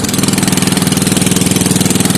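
A car engine idles steadily with a new budget muffler on the exhaust, giving a loud, close, even pulsing rumble throughout with no talking.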